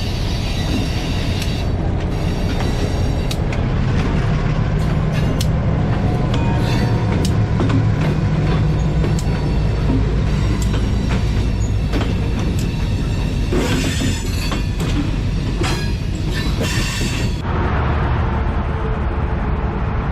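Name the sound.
passing train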